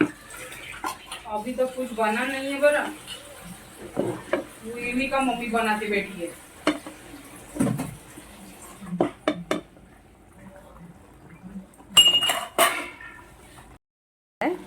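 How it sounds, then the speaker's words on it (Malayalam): Tomatoes being stirred in a pot on the stove, with metal spoon scrapes and clinks against the pot and a lid clattering as it is set on; a voice talks over the first part, and a louder clatter comes near the end. "ഇതൊന്ന് ഇളക്കി നമ്മൾ ഇതൊന്ന് അടച്ച് വെച്ച് 10 മിനിറ്റ് വേവിച്ചെടുക്കും"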